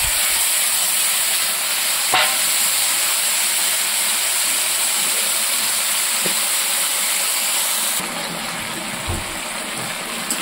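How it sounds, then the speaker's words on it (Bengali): Mutton dropped into a hot frying pan with oil, giving a loud, steady, close sizzle and hiss that runs throughout, with a few small clinks and no talking. "আর এবার আমি মটনটা দিয়ে দেবো।"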